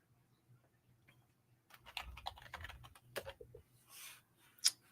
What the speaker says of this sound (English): let me type in exactly what you wrote